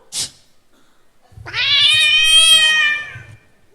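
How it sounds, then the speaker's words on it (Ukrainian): A cat lets out a single loud, drawn-out meow after a brief click, close and clear on a comedy stage at a KVN league semifinal, with no talk over it. "чи то був живий кіт, чи ні"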